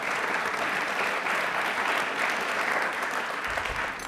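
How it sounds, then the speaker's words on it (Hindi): A studio quiz show audience claps loudly and continuously for a contestant, a dense, even burst of applause with no talking over it. "एक बार तालियां वापस से जोरदार सोनू के लिए होनी चाहिए"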